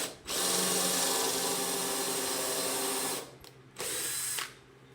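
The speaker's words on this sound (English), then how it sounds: "You're going to drill all the way down." A power drill bores down into a piece of wood in a woodworking shop, whining loudly and steadily for about three seconds, pausing briefly, then running again in a shorter burst before stopping.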